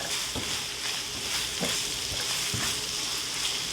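Pre-cooked tinned tuna sautés in a pan for Kerala-style spicy pasta, a dense continuous sizzle with faint scraping stirs and occasional soft pops, close up and without speech.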